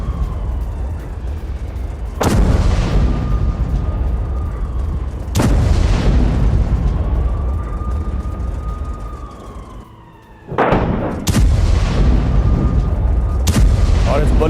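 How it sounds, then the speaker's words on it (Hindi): Hezbollah anti-tank missile strikes at Metula set off four loud, sharp blasts spaced several seconds apart. Each blast rings out and decays, with a wavering, siren-like tone drifting between them. "हिजबुल्लाह ने मेटुल्ला में एंटी टैंक मिसाइल से किया हमला"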